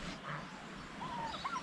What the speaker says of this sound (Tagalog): Nakatingin sila sa ating aso